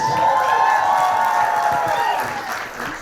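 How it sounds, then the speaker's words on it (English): An award show audience applauds and cheers in a steady, dense wash of clapping with a few whoops, holding strong and easing slightly near the end. "The audience applauds."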